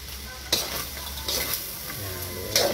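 Pork giniling sisig stirred as it fries in a pan: a steady crackling sizzle runs throughout, broken by a few scraping strokes of the spatula, close and fairly loud.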